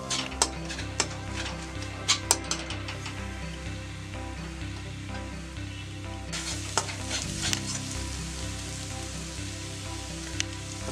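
Chopped tomatoes stirred into a frying Kerala hotel-style egg roast masala in a pan, steady sizzling with scraping spoon strokes and occasional metallic clinks against the pan, close and continuous with no voices.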